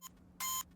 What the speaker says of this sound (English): Kind of sounds like an alarm clock.